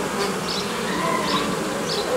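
Honey bees buzz around a hive on a beekeeping day while a nucleus colony is being expanded, a dense, steady drone close by with individual bees rising and fading as they fly past.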